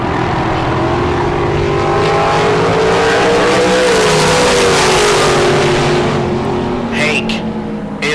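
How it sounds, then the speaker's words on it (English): A white dragster at a bracket drag race roars loudly and continuously, its engine pitch rising through the launch, then drops off near the end as the sound fades away. "the white dragster out of Marana"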